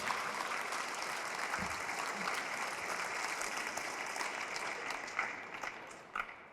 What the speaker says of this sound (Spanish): Fuertes aplausos al Rey de Reyes y al Señor de Señores.